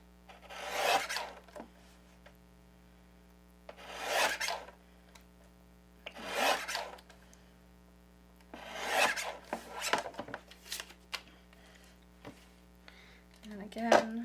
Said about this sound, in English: I'm going to use that Holtz trimmer to trim up my sentiments.